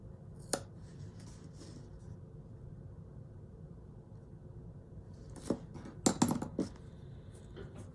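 Scissors snip paper for a planner page, one crisp cut early, then a burst of several quick snips near the end, all faint against a quiet room.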